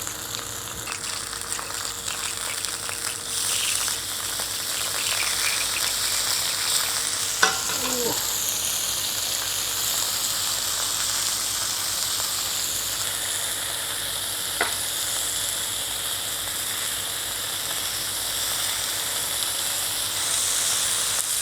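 Very thin slices of meat sizzling on a Korean BBQ grill, a steady close hiss and crackle lasting throughout, with a few faint clicks and no talking.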